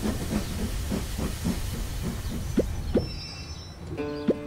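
A cartoon train pulls into a stop with a rhythmic chugging hiss that slows and fades, followed by a few short whistle-like toots and a released puff of steam, no voices.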